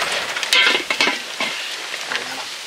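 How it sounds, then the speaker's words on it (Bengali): Fish sizzles and spatters in a frying pan at an outdoor village picnic: a steady, crackling hiss with sharper bursts of spitting oil, close and fairly loud, with no talking. "ওদিকটা আবার বেশি মাছ ভাজা হয়ে গেছে"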